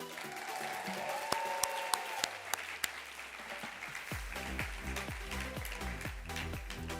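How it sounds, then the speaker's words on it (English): Audience applause at a press conference for a newly announced president, a steady wash of many hands clapping throughout, quiet and fairly distant, with a few sharper individual claps standing out early on. "a big round of applause for our new president"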